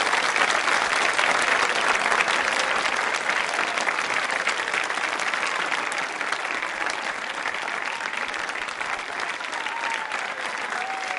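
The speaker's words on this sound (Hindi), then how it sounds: "अपने लिए जोरदार तालियां बजाइए।" Loud, steady applause from a studio audience of school students at a Hindi TV quiz show, filling the whole stretch with dense clapping that eases only slightly toward the end.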